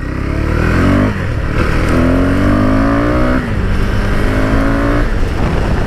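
A KTM Duke 390 motorcycle engine revs repeatedly, its loud exhaust rising and falling in pitch across several throttle blips, continuous and close.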